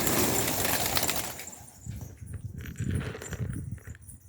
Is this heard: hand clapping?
no